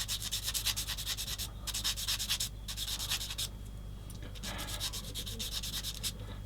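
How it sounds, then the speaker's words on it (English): Close, quick back-and-forth sanding strokes on a small plastic part of a 1/35 scale landing craft model kit, rhythmic bursts with brief pauses, over a faint steady electrical hum. "I'm going to do that bit of sanding again."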